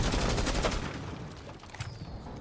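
Rapid automatic gunfire in a video game, with a dense burst of shots at the start that fades into a rumbling tail and a few scattered later pops, loud and close with no talk.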